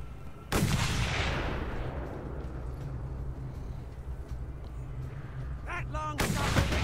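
In the Mad Max video game, a single loud long-range gunshot booms and rolls off into a long echoing tail, with a second sharp blast near the end.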